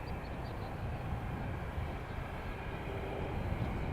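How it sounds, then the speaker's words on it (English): An Air Canada passenger jet on flight 176 to Toronto departing from an airport, a continuous broad engine roar heard steadily at a distance, without voices. "on your screen we have Air Canada flight 176 heading to Toronto"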